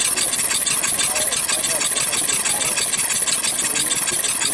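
A twelve-cylinder engine with one cold exhaust runs steadily, its loud, rapid pulsing firing rhythm continuous and close throughout, with no talk over it.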